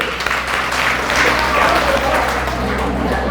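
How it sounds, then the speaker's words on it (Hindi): An audience claps at a Marwari-language religious talk at a temple, with dense continuous applause that is fairly loud and close, steady for the whole stretch. "तालियां बजाओ आप सबके लिए"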